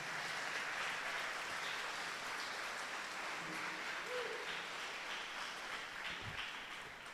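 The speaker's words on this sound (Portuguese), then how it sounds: "Aplauda o Senhor, aleluia." Congregation applauding during a church service, a faint, steady wash of many hands clapping at a distance that slowly fades toward the end.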